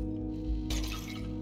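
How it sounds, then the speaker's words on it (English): Something shatters in the video game Stray: a sudden bright crash of breaking glass about halfway through, decaying over a steady low game soundtrack. "Oh, I actually heard a shatter that time."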